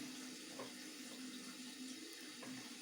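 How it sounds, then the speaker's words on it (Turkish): Water runs steadily from an opened faucet into a sink at a handwashing basin. It makes a continuous, even hiss and splash that holds at the same level throughout, with no voices. "Sağ elin ile musluğu aç."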